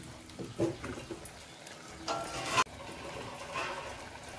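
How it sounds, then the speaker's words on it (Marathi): Water splashes and trickles into a spicy Malvani-style kalundra fish curry cooking in a village kitchen, with a brief louder pour near the middle and quieter liquid sounds around it. "थोडा पाणी घालतले अजून."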